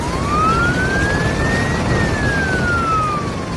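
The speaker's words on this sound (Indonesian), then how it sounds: "truk pemadam kebakaran itu datang seperti pahlawan dengan sirine yang menderu keras" A fire truck siren wails loudly and steadily, its pitch rising slowly then falling, close by with traffic rumble underneath.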